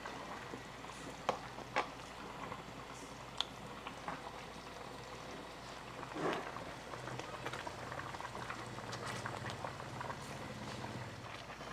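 Pasta boils in a pot of water, a soft steady bubbling with occasional louder pops and splashes, close and alone without talk.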